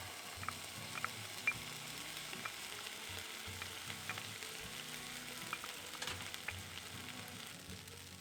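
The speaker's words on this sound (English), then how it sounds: "now that onion's started to sweat off, I'm going to add in our garlic and ginger" Onion, garlic and ginger fry in a pan at a riverside campsite, giving a soft steady sizzle with faint crackles and a few light clicks of the pan, quiet and close, with no talking.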